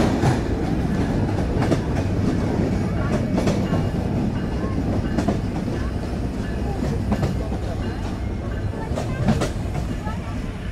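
A Kapotaksha Express passenger train on the Khulna to Rajshahi route in Bangladesh rumbles steadily along the rails, with recurring clickety-clack beats from the wheels and a faint murmur of voices under the constant noise.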